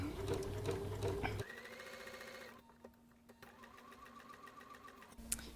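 A sewing machine with dual feed engaged runs steadily, stitching laser-cut quilt block fabric: a close, even mechanical whir that changes pace partway through, then stops briefly and starts again.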